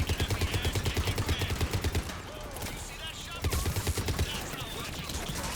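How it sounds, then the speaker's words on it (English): Heavy gunfire and grenade blasts from a Mass Effect battle, with dense rapid shots that are loud and continuous, a short dip in the middle and then renewed firing, mixed with game noise. "How many grenades are you gonna throw at me?"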